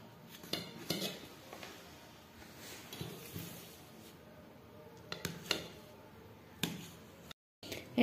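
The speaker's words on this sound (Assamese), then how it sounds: "এতিয়া মই পনীৰ টুকুৰা কাটি ল'ম" Paneer being cut into large chunks for a boiled vegetable curry, with a knife knocking on a board or plate in scattered, fairly faint clinks and taps, with quiet pauses between.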